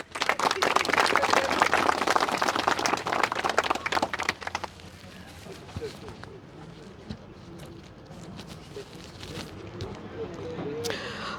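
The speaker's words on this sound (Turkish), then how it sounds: "Neriman Hanım'ı bir alkış istiyorum" Applause for Neriman Hanım at a pensioners' union press statement: dense clapping fills the first four seconds, then fades into scattered claps and background chatter, with a burst near the end.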